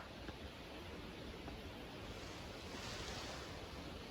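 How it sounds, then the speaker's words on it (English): Steady wind rushes through tall leaves high in the treetops along a nature trail, a continuous broad hiss that swells and eases like distant ocean surf, with no voices. "As the wind is creating just beautiful sounds in those tall leaves that are at the top of the trees. It almost sounds a little bit like ocean waves."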